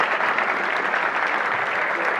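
Sustained, thick clapping from a conference crowd follows Tomás Bianco's talk on AI copilots and agents, holding at an even moderate loudness throughout the two-second stretch.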